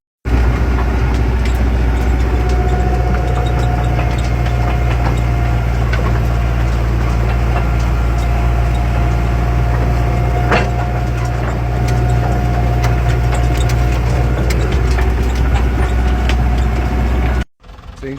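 A tractor engine drones loudly and continuously from the cab while rolling a field on a summer evening, a heavy low rumble with rattling and a steady whine that cuts off abruptly near the end.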